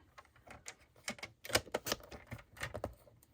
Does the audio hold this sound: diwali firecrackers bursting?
no